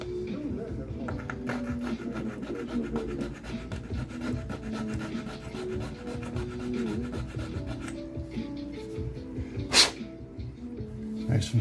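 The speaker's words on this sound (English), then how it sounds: "And we need to get this filed down." Steady, rhythmic rasping strokes of a file scraping a die-cast metal post on a 1975 Hot Wheels toy car up close, repeating for several seconds, with a sharp metallic clink near the end.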